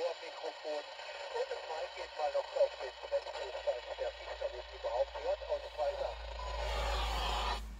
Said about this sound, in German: Man kann ihn verstehen, aber es rauscht doch stark.